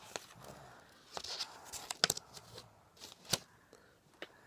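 A child snips with scissors during a craft activity, producing several short, sharp cuts spaced irregularly, fairly close and faint, alongside light rustling of paper.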